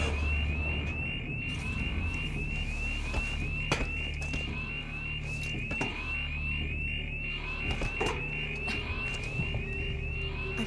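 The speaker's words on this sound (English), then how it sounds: "Many alarms." Alarms blaring in the survival horror video game Alien: Isolation, a steady repeating electronic siren tone that runs through the whole stretch, with thuds and mechanical clanks over a low ambient hum.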